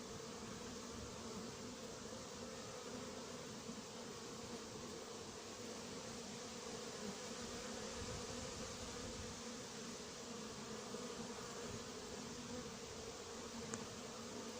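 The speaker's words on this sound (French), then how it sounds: "Et le frelon qui continue de voler." Hornet flying near an anti-hornet tent outdoors in Montgeron, a faint continuous insect buzz over steady background hiss, with no voices.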